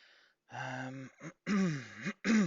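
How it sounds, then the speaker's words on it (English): Someone nearby clears their throat and coughs in a few harsh, voiced bursts with short pauses between them. "Sorry for coughing."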